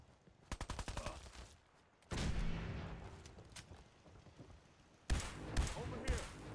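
Gunshots in the video game Fallout 4: a quick cluster of sharp reports near the start, then a loud blast with a long decaying rumble, and another burst of rapid shots near the end.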